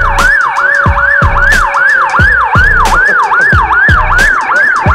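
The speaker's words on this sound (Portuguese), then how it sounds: "só liga a sirene" A loud wailing police car siren cycling rapidly up and down, very close, with repeated rhythmic thumps underneath.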